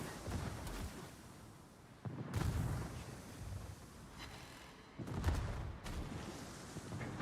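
Rear turrets of a tier 10 warship firing in World of Warships: two heavy, distant-sounding booming salvos a few seconds apart, each rumbling off over a quiet background.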